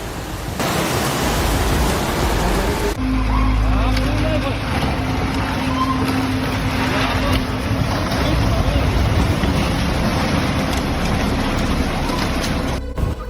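Floodwater rushes down a Valencia street past shops and carries a parked car along, a loud unbroken roar of churning water that holds steady throughout.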